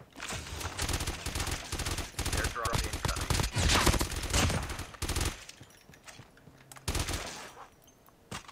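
Dense, loud bursts of automatic gunfire and rapid shots in the shooter game Call of Duty: Mobile, with sustained firing for several seconds, a lull, then another short burst.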